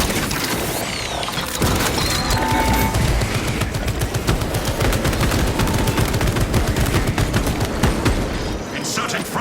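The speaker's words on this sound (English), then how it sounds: "Activating Tarantula Sentry Gun." A Tarantula sentry gun firing in Warhammer 40000: Space Marine 2, a loud, dense, continuous stream of rapid automatic shots with a talking voice mixed in.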